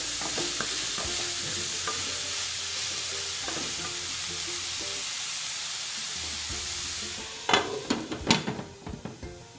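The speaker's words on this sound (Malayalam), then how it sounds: "നന്നായിട്ട് മിക്സ് ചെയ്തെടുക്കാം ഇത് നന്നായിട്ട് മിക്സ് ചെയ്ത് നമുക്കൊന്ന് മൂടി വയ്ക്കാം" Bitter gourd thoran being stirred in a frying pan: a steady sizzle with scattered scraping strokes, then a burst of louder, sharper spoon-against-pan scrapes near the end, with no voices.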